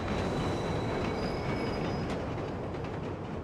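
A subway train in The Warriors video game rumbles along in a constant loud roar, with wheels squealing in a thin high whine over the rolling clatter and no one speaking.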